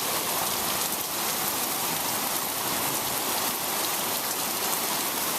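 A heavy rain downpour during a micro-burst wind storm gives a constant, dense hiss of rain pounding surfaces, loud and unbroken throughout with no voices.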